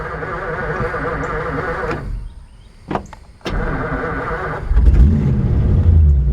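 A 1950 Ford Custom with a 6-volt push-button start runs at a steady idle, drops away briefly with a couple of clicks, then cranks and catches again, settling into a louder, deeper rumble.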